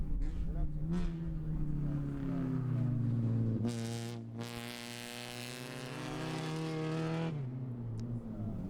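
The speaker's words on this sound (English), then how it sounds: "And that was the Mazda Miata of Luann Capson, the number 117 car." A Mazda Miata race car at Sebring passes close with a steady engine drone that swells, shifts pitch mid-pass and fades away over several seconds, with a commentator's voice faintly under it at times.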